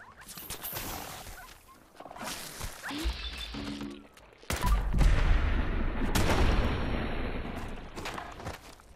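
Bursts of gunfire in the game Fallout 4 crack and rattle in several clusters, growing denser and louder in the second half, mixed with other game effects and some talk.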